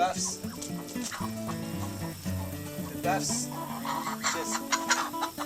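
Buff Orpington chickens around 14 weeks old cluck and murmur close by in a coop, with busy overlapping calls over a steady outdoor background.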